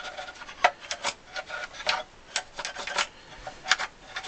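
Small brush scrubbing debris out of the treble-side pallets of a Silvio Soprani 48-bass accordion under restoration, giving quiet, close, irregular scratchy strokes in quick succession with no talking.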